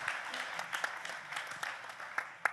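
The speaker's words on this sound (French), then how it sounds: "on peut applaudir Églantine, effectivement" Brief, fairly faint applause from an audience at a plenary conference session in Hauts-de-France, with scattered individual claps standing out from a soft wash of hands.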